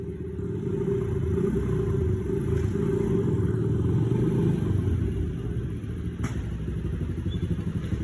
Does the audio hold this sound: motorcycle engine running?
yes